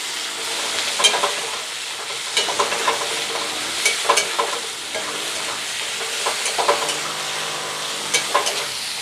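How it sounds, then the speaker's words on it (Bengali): Onions fry in a pan for chicken curry with ground spices, a steady close sizzle broken by regular scraping stirs every second or two, with no voices. "লাল করে ভেজে নেব।"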